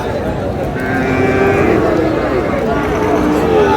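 Sahiwal calves at a busy rural cattle market lowing loudly nearby, drawn-out moos rising over constant crowd murmur and chatter.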